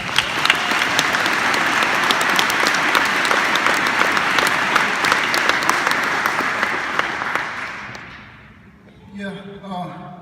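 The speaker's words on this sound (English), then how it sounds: "give her a round of applause" Sustained loud applause from a large audience at a Navy chief warrant officer's retirement ceremony, a dense steady roar of clapping lasting about seven seconds before fading out, followed by a brief voice.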